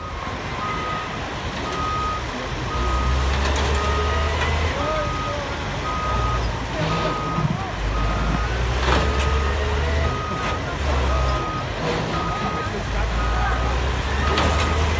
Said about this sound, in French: le télesco va rapidement décoincer la batteuse.